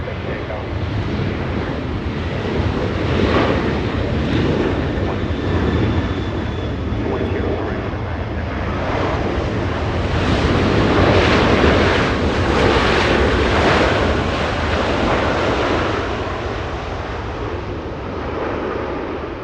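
A British Airways Airbus A350 jet at Los Angeles International Airport gives off a sustained, rumbling engine roar with some wind buffeting, growing fuller mid-way and then slowly subsiding.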